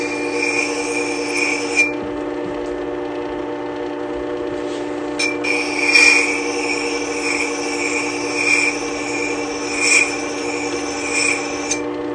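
A wood carving tool rocked over a sharpening surface to roll its bevel, giving a steady close-up rasping rub with brief pauses and louder strokes, no talking.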